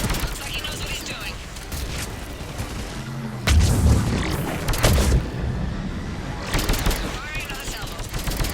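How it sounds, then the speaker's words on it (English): Missiles launching in a Mass Effect 3 battle on Thessia: broad, loud rushing blasts and booms rise over a constant din of gunfire, with heavier surges partway through and again near the end. "Missiles away."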